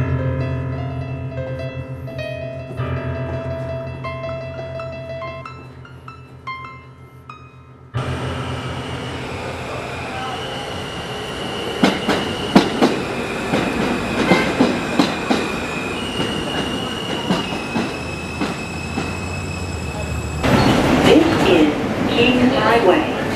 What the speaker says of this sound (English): This is a Manhattan-bound end train.